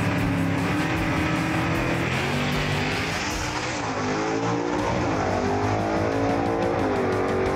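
Pontiac Chieftain drag car with a 406 cubic inch Butler Performance engine roaring loud and close at a drag race, a sustained heavy engine howl that shifts pitch as it accelerates.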